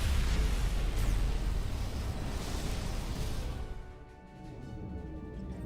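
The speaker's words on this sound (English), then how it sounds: "Whoa! Dilithium explosion!" A dilithium crystal bursts after a phaser shot in the Star Trek Resurgence video game, a sustained loud roaring blast lasting several seconds before falling away into a quieter rumbling tail.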